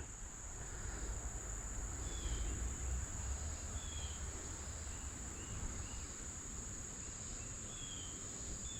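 Insects chirp outdoors at a fishing spot, a steady high-pitched shrill drone continuing throughout at low level, with a few faint bird calls and a soft low rumble underneath.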